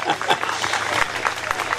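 A small gathering at a public meeting claps for a man named Franco, a brief burst of close, uneven hand clapping with a low steady hum underneath.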